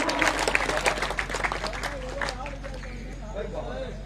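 An audience at a kavi sammelan poetry gathering applauds in a burst of scattered clapping that fades over a few seconds into crowd murmur, with a voice speaking over it.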